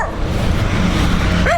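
A loose dog barking and yipping outdoors near a lawnmower, short bursts at the end over a constant loud engine drone.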